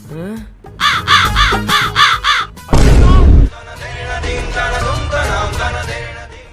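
A crow gives a run of five loud, harsh caws in quick rhythm, close by. A burst of noise follows, then a voice talking.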